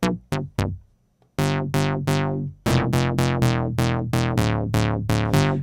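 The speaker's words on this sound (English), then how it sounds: "you can, for example, also make a short bouncy sound like we had before" Short, bouncy synth bass notes from the Drift synthesizer in Ableton Live, plucked hits that decay quickly, a few scattered at first and then a steady run of evenly spaced bouncing notes, loud and dry with no talking.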